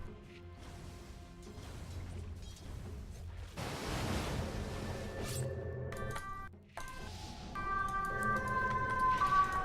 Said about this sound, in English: Sorry for the sirens, I don't know. I think you can hear them actually.